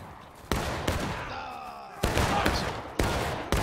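Musket volleys fire in the War of Rights game, several loud, reverberant blasts spaced about a second apart over steady battlefield noise, while a player talks faintly underneath.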